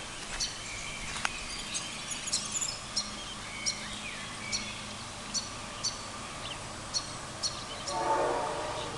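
A train rolls past near a flooded creek at Wangaratta, with rhythmic wheel clacks on the rails over a steady rumble, crickets chirping in the background, and a horn blast near the end.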